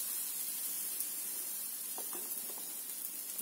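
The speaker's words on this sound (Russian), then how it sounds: "Жарим панкейки." Steady soft sizzling hiss of banana pancake batter frying in vegetable oil in a pan on a gas stove, with faint crackles and pops close by, no voices.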